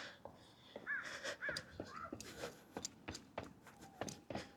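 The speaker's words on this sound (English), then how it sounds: "that same crow, I believe, is still chirping. He's in that tree" A crow caws several times from a tree near beach stairs at sunset, the calls clear and fairly close, with footsteps on the stairs scuffing irregularly between the caws.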